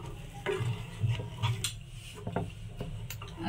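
A spoon stirs sugar into a custard mixture in a pot, with repeated scraping and clinks against the metal in an uneven rhythm, close and moderately loud, no talk.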